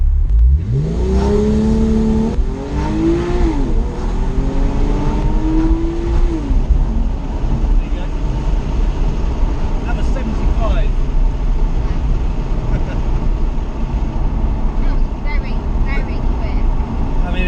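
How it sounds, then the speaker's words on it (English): A 2011 Porsche 911 GTS accelerating hard from a standstill in a 0 to 60 run, heard from inside the cabin as the engine climbs through rising revs with gear changes, then settles into a loud steady road roar while people talk. "we're going to start the day with a 0 to 60 run."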